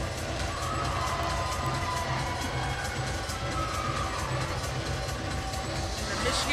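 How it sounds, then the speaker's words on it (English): A thin crowd at a Stanford versus Michigan gymnastics meet claps along in a steady rhythm. The clapping is fairly faint and distant in a large hall, and there is general crowd murmur. "The Michigan crowd here is clapping along."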